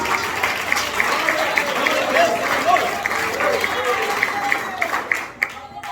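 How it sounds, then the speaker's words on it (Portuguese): Church congregation clapping loudly in praise for Jesus during a sermon at a Pentecostal service, rhythmic handclaps with voices mixed in, tapering off near the end. "Quem glorifica com as fortes palmas para Jesus"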